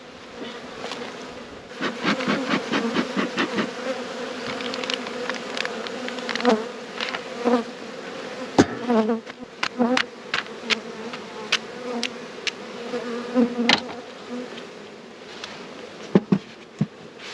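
Honey bees buzzing around beehives at an Australian apiary in early season, a close, wavering drone with individual bees repeatedly passing near and away, loud buzzy swells rising and fading throughout.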